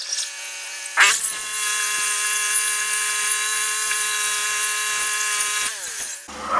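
A sawmill blade cuts a 1 inch board off a big black oak log, a loud, steady high-pitched whine that starts abruptly, holds evenly for several seconds, then drops in pitch and fades as the cut ends.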